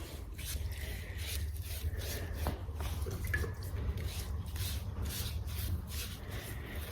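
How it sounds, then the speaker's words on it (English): A water stain is scraped and scrubbed off with stripper, giving close, repeated wet rubbing and scraping strokes over a continuous low background noise, with a few small drips and clicks. "If I'm having to work at scraping it off, it means there's not enough stripper."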